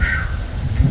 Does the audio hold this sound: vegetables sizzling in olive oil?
no